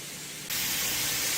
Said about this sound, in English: So I'm just going to sand all these areas where there's chrome now.